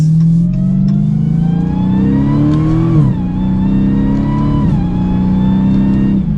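Loud engine of a 2021 Dodge Challenger SRT Super Stock accelerating up through gears, with a high mechanical supercharger whine rising over the engine's roar and dipping at each shift.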